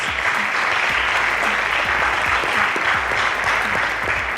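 A quiz-competition audience applauds a correct answer with steady, even clapping from many hands, loud and continuous throughout without any talking.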